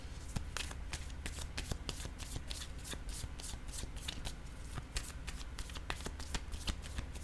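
A deck of playing cards being shuffled close up, with repeated rapid riffling bursts of fluttering, snapping card edges in a steady rhythm throughout.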